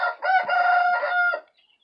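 A rooster crows once, loud and close, in a single sustained call of about a second and a half with no other sound around it.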